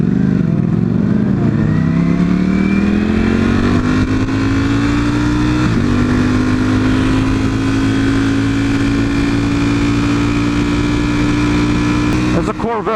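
A Corvette engine revs and roars as the car drives by, loud and close, the steady rising drone holding for several seconds before a brief shift.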